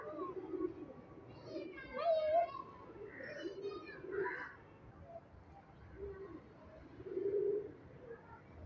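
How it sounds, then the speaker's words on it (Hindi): A pigeon, one of a star pigeon breed, coos softly in low repeated bursts nearby, while someone talks over it throughout. "बहुत प्यारे बैलेंस में बना है जी ये कबूतर"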